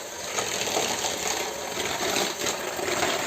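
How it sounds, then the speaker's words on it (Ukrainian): An electric mixer beats eggs, sugar and oil for a chocolate zucchini cake batter, giving a steady, close whirring hum that holds without a break. "збиваємо міксером."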